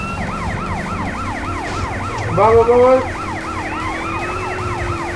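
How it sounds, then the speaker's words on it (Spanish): Police car siren in GTA San Andreas wailing in a rapid rising-and-falling cycle, loud and close over engine noise, while a voice calls out briefly. "Voy a subir la sirena yo también."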